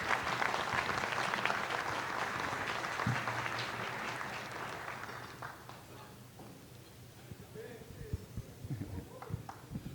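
Audience applause welcoming João Doria at a LIDE business luncheon debate, dense and sustained for about five seconds, then thinning into scattered claps and shuffling room noise as it fades out.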